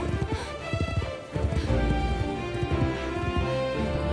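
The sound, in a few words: horse hooves galloping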